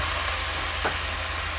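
Ground onion paste fries in hot oil with cumin seeds in a pan, giving a steady, loud, close sizzle that holds evenly throughout with no talking.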